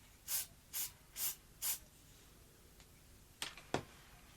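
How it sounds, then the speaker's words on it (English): Switch cleaner sprayed onto a port of a Grundig Steno-Cassette recorder: four short, even hissing bursts in quick succession, a pause, then two sharper spurts, close and fairly quiet. "Need a little switch cleaner on that port."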